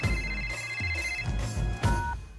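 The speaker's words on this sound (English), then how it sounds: "Let's call her. It's ringing." A telephone rings with repeated bright tonal chimes in a film comedy scene, the rings overlapping a rumbling low background and a music-like bed.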